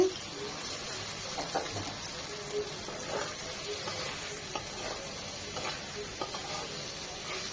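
Half-split, lightly boiled, peeled jackfruit seeds stir-fried in a pan with spices and dried fish for a dish with red Malabar spinach, giving a steady soft sizzle with faint scraping stirs throughout.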